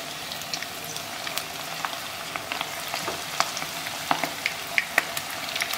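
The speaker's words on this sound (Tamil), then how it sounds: "பக்கோடா மாதிரி எண்ணெய் நல்லா காஞ்சதும் போட்டால் தான் பார்த்தீங்கன்னா எண்ணெய் எடுக்காமல் இருக்கும்" Oyster mushroom and cabbage pakoras fry in hot oil with a steady, dense crackling sizzle and scattered sharp pops, close and continuous with no talking.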